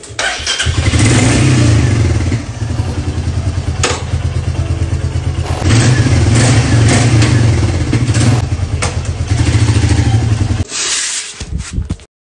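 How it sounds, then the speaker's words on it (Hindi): A motorcycle engine starts and revs, then settles into a steady, loud throbbing idle with rhythmic clatter that runs nearly without a break. It cuts off abruptly near the end. "मेरा बाइक है।"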